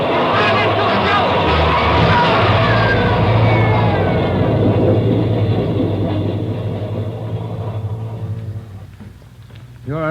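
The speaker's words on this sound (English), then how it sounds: "There's a train coming through." Loud, roaring rumble of a train passing through a tunnel in a radio drama, with grinding metallic tones, sustained for several seconds before fading, then a brief sharp squeal at the end.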